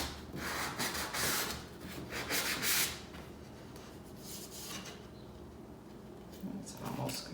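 Close, rhythmic rubbing strokes of a worn sanding block scraping across the edges of a wooden plaque, in bursts separated by short pauses.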